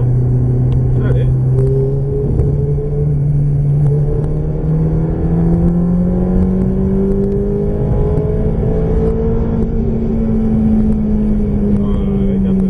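Ferrari F430 engine on a racetrack, a loud steady roar that climbs slowly in pitch as the car accelerates. It runs continuously for the whole stretch with no break.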